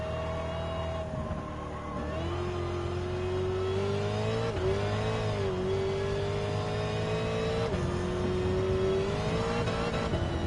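A car engine in Gran Turismo 7 revs and climbs steadily through the gears, a loud continuous racing drone with pitch rising, dipping at shifts and rising again, no voices.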